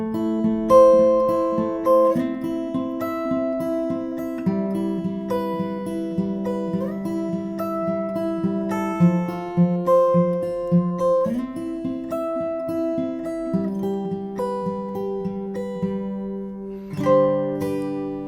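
Acoustic guitar plays a ukulele-style chord progression with added color, each chord repeated in a steady picked pattern, close and clear with no voices, ending on a brighter strummed chord.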